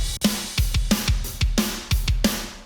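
A drum pattern of kick beats with hi-hat hits alternating between open, ringing strikes and short closed ones, in a steady repeating rhythm.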